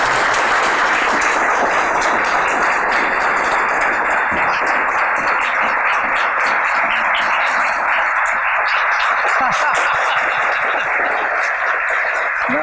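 A studio audience greets a singer with loud, sustained applause, a dense continuous wash of clapping that fills the whole stretch with no voices.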